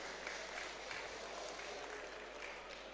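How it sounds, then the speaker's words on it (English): Faint, distant applause from the audience at a university valedictory programme, a steady blurred wash of clapping heard at low level without clear individual claps. "Please, a round of applause to him as he returns"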